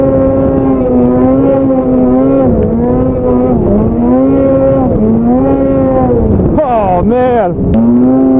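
A snowmobile engine revs loudly and close during a ride in a snow storm, its strong droning tone rising and falling in repeated surges, with a brief spoken exclamation near the end.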